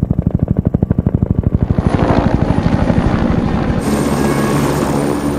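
A military helicopter's rotor thumps steadily, loud and close, then blurs into a continuous roaring engine whine as it passes.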